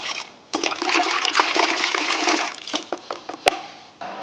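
Water gushes from a hose nozzle into a bucket for a car shampoo wash, a steady loud splashing rush that starts abruptly and churns on with gurgling bursts before cutting off near the end.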